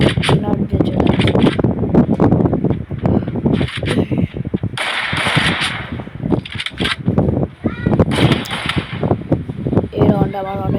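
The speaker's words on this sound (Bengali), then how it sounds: "আমি তো ফায়ার করছি" Rapid bursts of gunfire in a video game crackle and pop, mixed with impacts and whooshes. Someone talks excitedly over the shooting throughout.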